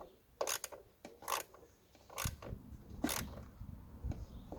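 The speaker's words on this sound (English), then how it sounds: "Socket wrench." A socket wrench ratchets in short, close bursts while fastening part of the air conditioning fan assembly in a 2012 BMW F30, with several uneven rasping clicks and scrapes interrupted by brief pauses.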